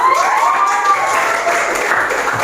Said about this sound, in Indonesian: Kita tepuk tangan dulu untuk 3 kelompok.